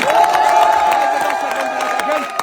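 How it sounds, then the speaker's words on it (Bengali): An audience at a Bangla comedy show claps and cheers for a contest winner, a steady wash of applause with crowd noise, while a host talks over it. "রফিকুল ভাইয়ের জন্য সবাই একটা জোরে তালি"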